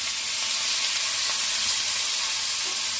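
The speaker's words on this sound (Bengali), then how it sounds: "আমি কড়াই বসিয়ে দিয়েছি, তেল গরম হয়ে গেছে। এবার আমি চিংড়িগুলো ফ্রাই করে নেব।" Small shrimp fry in hot oil in a wok, giving a steady, bright sizzle that stays even and fairly close throughout, with no talking.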